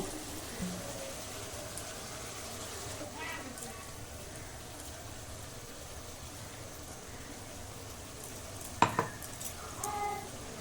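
Ginger garlic paste sizzles and crackles steadily in a hot pan with fried onions, with occasional stirring and a sharp utensil clink near the end.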